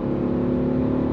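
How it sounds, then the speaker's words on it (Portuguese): A 2022 Hyundai HB20 Evolution with a 1.0 engine and manual gearbox accelerates hard uphill on a ramp after a downshift, a steady loud engine drone with a strong tonal hum in this short burst. "Eu vou reduzir de novo e vou dar um pé no fundo"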